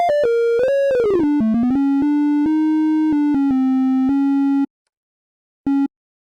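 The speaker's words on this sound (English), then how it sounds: "3XOs, and this little triangle wave is everything we're gonna use." A triangle-wave synth note from FL Studio's stock 3xOsc plugin plays a bright, pure melodic line of short stepped notes and held tones, then stops into silence before one brief final note.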